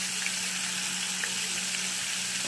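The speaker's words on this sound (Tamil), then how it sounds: "சிக்கனை சேர்த்து வதக்கலாம்." Chicken sautéing in a pan with tomato and spices, a steady close hiss of frying that stays loud and constant throughout, with no voices.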